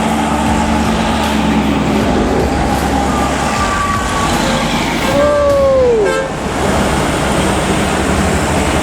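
Truck carrying a dozer rolling past on a road, a steady heavy roar of engine and tires with a short horn toot that bends in pitch as it goes by.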